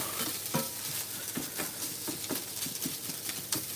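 Egg fried rice tossed and stirred in a hot pan over high heat, with a steady sizzle broken by repeated scraping strokes of a utensil, close and fairly loud, with no talking.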